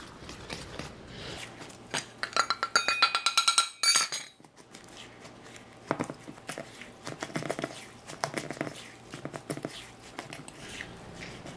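Dry ingredients being mixed into wet oatmeal lace cookie dough in a bowl, with scraping, clinking strokes against the bowl that come in bursts, a dense flurry early on and then sparser taps and scrapes.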